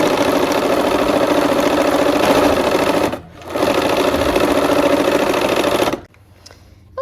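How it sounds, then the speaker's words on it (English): A sewing machine running fast and close, stitching a quarter-inch seam through fabric for a Christmas quilt block, in two continuous bursts with a short pause between, then stopping. "We're gonna go ahead and sew our 1/4 inch seam here"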